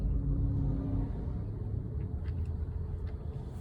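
Interior rumble of a car being driven, a steady low engine and road drone heard from inside the cabin, with no talking.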